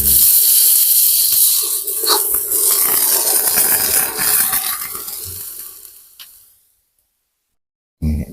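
Water hits a hot pan of dry-roasted ingredients over a charcoal stove, bursting into loud, hissing sizzle that gradually fades to silence after about six seconds, then a brief clatter at the end.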